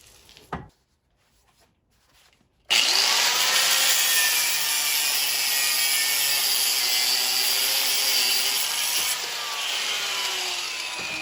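A power tool saws through the lower leaf spring bracket on a classic Chevy after a brief knock and near silence, then a loud, sustained, gritty cutting whine runs continuously to the end.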